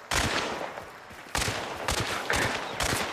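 A double chain pistol fired in the shooter game Hunt: Showdown: several sharp, loud gunshots in irregular bursts, each with a short echoing tail.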